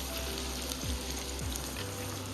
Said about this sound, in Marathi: आता याला आपण 1 मिनिट परतून घेऊ